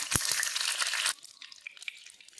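Three chillies dropped into hot oil in a pan for egg chutney give a loud crackling sizzle with a few sharp pops, which then dies down to faint scattered spitting.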